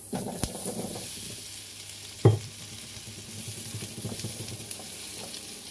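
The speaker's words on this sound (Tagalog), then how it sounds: "So, ipriprito ko yung ating patatas." Potatoes fry in a pan with a steady sizzle, broken by a sharp clank of a utensil against the pan.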